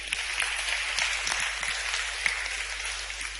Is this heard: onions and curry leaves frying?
no